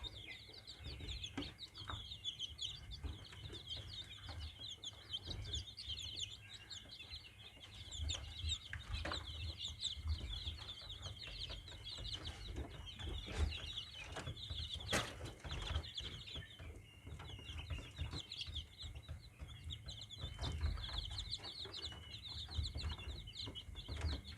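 KUB native chickens in a rearing pen cluck and chirp steadily at moderate distance, a continuous flock chatter over low rumbling background noise, with no talk.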